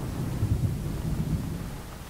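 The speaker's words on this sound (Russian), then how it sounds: "Такой вот будет у нас дождь." Rain and thunder weather effect from the Spin Tires off-road driving game, with a steady low rumbling wash of rainfall and a rolling thunder-like swell, moderately loud and continuous with no voices.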